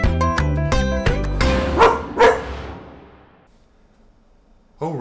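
A dog barks in a short burst of sharp, loud barks at close range, then trails into quiet before a brief sound at the end.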